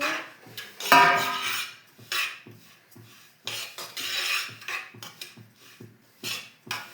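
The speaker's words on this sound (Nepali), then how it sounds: "तिल भुट्न लागिरहेको छु।" Sesame seeds roast in a pan for sesame laddoos, a dry rasping scrape of a spoon stirring against metal in short, irregular bursts, close and fairly loud, separated by brief quiet gaps.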